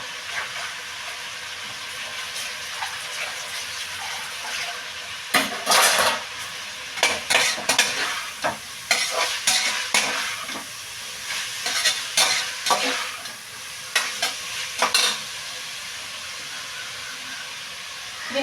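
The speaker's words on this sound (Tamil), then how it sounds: "இப்போது காய்கறி புதினா இது எல்லாமே வந்து சூப்பராக நல்லா வதங்கிருச்சு" Chopped vegetables and mint sauté in a pan for a spicy brinjal dish, a steady sizzle broken by repeated bursts of scraping and stirring strokes from about five seconds on, close and fairly loud, with no talk.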